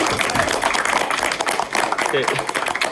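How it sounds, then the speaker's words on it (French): Applause from an audience at a debate, a dense steady wash of many hands clapping throughout, close and fairly loud. "Ouais, applaudissons."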